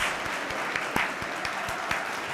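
Stadium crowd at a FC Barcelona vs Valencia La Liga match applauding players coming on as substitutes, a continuous, fairly even roar of far-off clapping with occasional louder claps.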